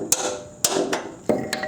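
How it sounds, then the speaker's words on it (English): Three-pound hammer striking metal during removal of a Subaru engine from an Impreza, Forester or Outback: four or five sharp, close blows, each ringing briefly before the next. "Use a 3-pound hammer."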